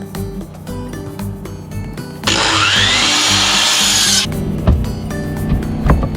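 A power saw trims a wooden framing board for a bathroom window wall, cutting in one steady loud whining pass of about two seconds that starts and stops suddenly, with tool clatter and knocks before and after.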